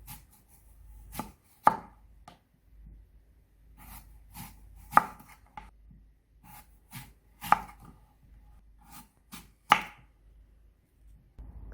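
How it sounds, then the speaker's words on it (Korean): A knife cuts apple for cheese canapés on a board in sharp, close chops that come in irregular clusters with quiet pauses between, no talk over them. "사과를 예, 잘라줍니다."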